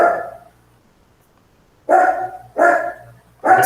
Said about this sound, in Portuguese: Esse cachorro ficar quieto aí